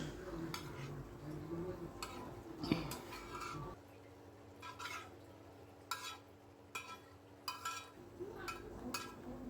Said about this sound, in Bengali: আমার সিদ্ধ করে রাখা সেই পাস্তা দিয়ে দিচ্ছি